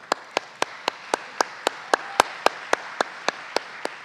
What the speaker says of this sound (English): So I want to just give a hand clap for our board.